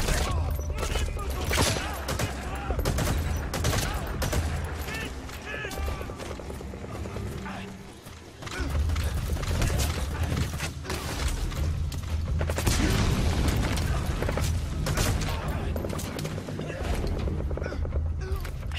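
Gunfire from the video game Metal Gear Solid 5: Phantom Pain on PS4 comes as dense, continuous loud shots and bangs that fill the whole stretch, with game effects layered in.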